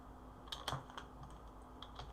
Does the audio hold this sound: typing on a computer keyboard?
yes